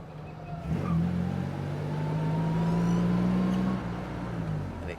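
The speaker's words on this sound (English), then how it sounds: "It accelerates nice and smooth as well." A 1951 Jaguar XK120 open two-seater pulls away in second gear, its engine note rising smoothly and steadily for several seconds before easing off, heard from close by inside the car.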